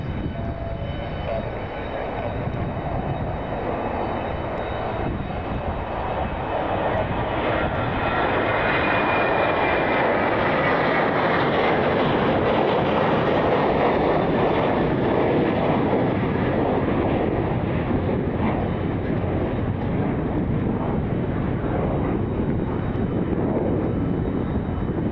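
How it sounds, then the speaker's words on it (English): A Delta airliner takes off at Detroit Metro Airport, its jet engines producing a loud, continuous roar that swells and holds steady throughout the takeoff run. "Delta flight 2187, I believe, was the flight number,"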